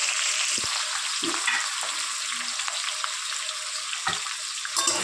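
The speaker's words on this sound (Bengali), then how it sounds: "পেঁয়াজটা বেশি করে ভেজে নিয়েছি, একটু ভাজা করবো।" Onions frying in oil in a pan for Bengali mutton kosha, a steady loud sizzle throughout with a few soft clicks and stirring scrapes, no voices.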